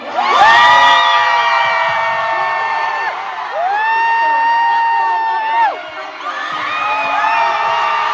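A large concert crowd in San Francisco screams and cheers loudly in sustained, high-pitched waves, with shrill voices rising and falling, close and overwhelming.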